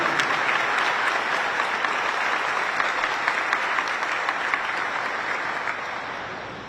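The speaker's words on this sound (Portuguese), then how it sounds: "eu gostaria de pedir uma salva de palmas ao nosso homenageado, Rodrigo Caetano" Sustained applause fills a solemn session as an audience honors Rodrigo Caetano, recipient of the Tiradentes Medal. The clapping is dense and steady throughout, easing off slightly at the very end.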